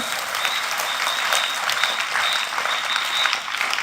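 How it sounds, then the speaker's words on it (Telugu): An audience applauds a family being honoured at a felicitation ceremony, steady loud clapping from a crowd that carries on throughout without a break. "మరి ఈ కుటుంబాన్ని మనం గట్టిగా చప్పట్లు కొట్టి అభినందనలు తెలియజేయాలి."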